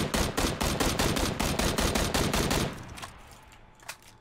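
Rapid automatic gunfire in PUBG, a dense burst of evenly spaced shots lasting a few seconds, then cutting off to quiet with one faint later report.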